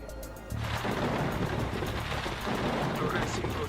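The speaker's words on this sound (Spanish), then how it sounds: "Vamos a esperar a que pase esta tormenta." Heavy thunderstorm with steady pouring rain and deep rumbling thunder, loud and continuous, swelling after a brief quieter opening while an airliner waits out the storm before departure.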